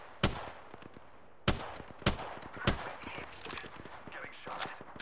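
Gunfire rings out in the video game Apex Legends: four loud, sharp, separated shots crack close by, then give way to quicker, quieter bursts of fire.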